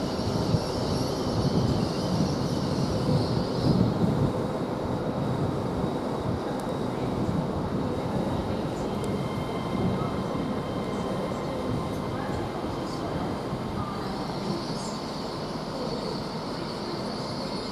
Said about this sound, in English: this one's from Edinburgh to London King's Cross, which is arriving at 11:20, about a few minutes late